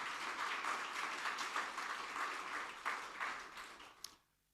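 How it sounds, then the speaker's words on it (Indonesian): A church congregation at a Sunday worship service claps together in a fairly faint, dense round of applause that tapers off and stops abruptly near the end. "Beri tepuk tangan buat Tuhan Yesus"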